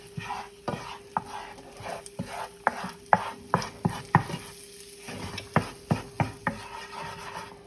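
Buffalo mac and cheese is stirred in a pot, a steady run of scraping, knocking spoon strokes against the metal over a faint low sizzle.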